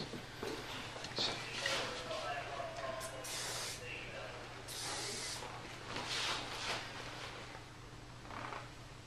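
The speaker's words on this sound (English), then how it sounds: "A little bit of hairspray just to hold the hair" Hairspray from an aerosol can misted onto a beehive hairstyle in several short hissing bursts, close by, with a voice talking softly underneath.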